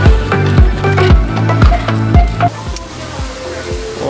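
Dinner frying in a home kitchen, with a steady, close sizzle that runs throughout, broken by repeated rhythmic scraping and stirring strokes of a utensil in the pan.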